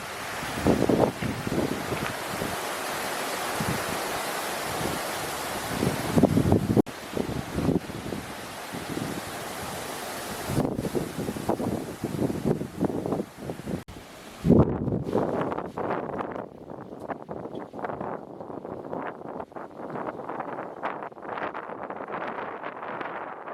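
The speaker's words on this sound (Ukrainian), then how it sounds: "Зараз теж дуже вітряна погода." Strong wind buffets the microphone in loud, gusty roars, easing somewhat toward the end with rustling and lighter gusts.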